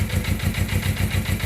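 The engine of a Suzuki GS 500 motorcycle runs steadily with a pulsing, rhythmic idle and an abnormal noise from bent bolts, loud and close with no talk over it.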